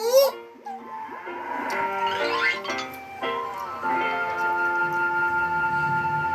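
A dairy cow lows in a series of drawn-out moos with clear harmonic tones, fairly close and moderately loud, accompanied by bright tonal sounds.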